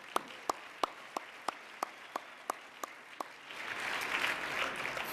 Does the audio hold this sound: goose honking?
no